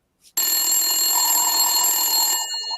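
An electronic telephone ring, the kind that pages someone to a white courtesy phone. It sounds as one steady, loud, continuous trilling tone lasting about two seconds, then cuts off abruptly. No one talks over it.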